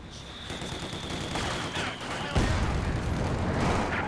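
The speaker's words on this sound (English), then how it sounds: "Oof, big damage from the heavy mortar." Heavy mortar fire in a strategy video game match, dense booming blasts and rolling explosions layered over battle noise, with a sharp heavier impact midway and continuing rumble afterward.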